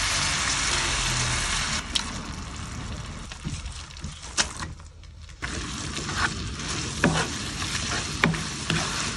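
Squid ink spaghetti sizzles loudly in a hot oiled pan as it is stirred and tossed, with a steady fry, scraping utensil knocks and a brief dip in the sizzle midway.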